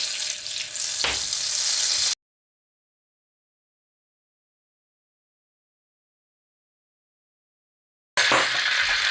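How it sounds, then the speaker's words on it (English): A slab of butter sizzles and spits loudly in a hot pan for tarka dhal. The frying is heard close up for a couple of seconds, then stops dead for a long silence and returns at the end. "In with a nice slab of butter."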